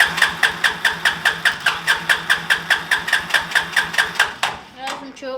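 A small Willys-style 4x4 mini jeep engine cranks over on its starter button in a fast, even chugging rhythm for several seconds, close and loud, then stops as a short sputter and voices follow.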